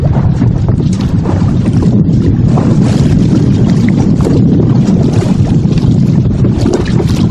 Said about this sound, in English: there's more wind out here